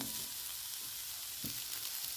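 Cauliflower and potato frying in a pan, a faint steady sizzle of hot oil with a couple of soft stirring knocks, heard alone.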